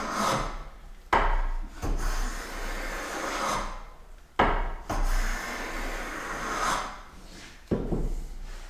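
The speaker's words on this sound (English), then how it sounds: "So these are the final shavings I'm taking now, and they're full width." A hand plane takes final full-width shavings from a wooden board, with three long rasping strokes, each starting with a sharp bite and ending in a quiet pause, close and without talk.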